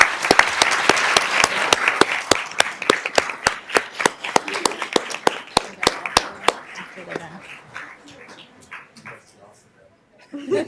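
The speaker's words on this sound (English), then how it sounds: "Please join me in giving her a round of applause." Loud, distinct handclaps for an honoree at a Sacramento City Unified School District event, fading into scattered claps and then brief talk at the end.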